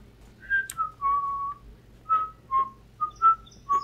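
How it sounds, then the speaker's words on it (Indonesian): A person whistles a short tune of clear, separate notes during a zombie apocalypse video game, several held and short tones with brief gaps over a faint low background hum. "aku malah siul-siul lah"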